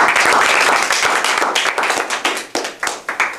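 Audience at a Toastmasters meeting clapping loudly and close, a dense burst of applause that thins out into a few scattered individual claps by the end, no talking.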